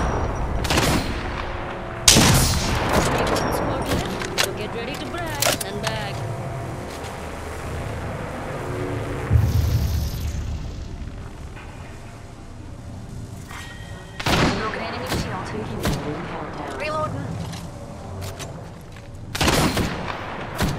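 Bursts of rapid gunfire and sharp shots crack through an Apex Legends battle, several loud volleys spread across the stretch with thumps and impacts in between, dense and close.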